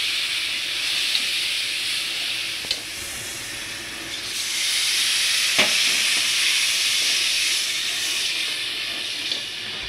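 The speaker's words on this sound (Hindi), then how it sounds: "अब मैंने इस पर डालना है पानी।" Water poured onto semolina roasting in a pan for sooji halwa over lowered heat, giving a steady broad sizzling hiss with brief spitting crackles throughout, close and fairly loud, with no talking.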